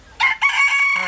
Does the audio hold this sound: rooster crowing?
yes